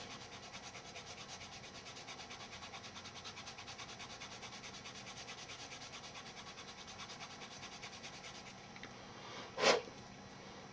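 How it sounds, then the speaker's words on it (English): Steady, rhythmic sanding scrapes back and forth over metal vehicle frame rails at low volume, followed near the end by a brief, sharp knock. "A little sanding action."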